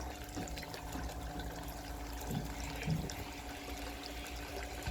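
Water runs steadily through a gold sluice box washing gravel, a constant close rushing and trickling wash with occasional soft knocks of stones.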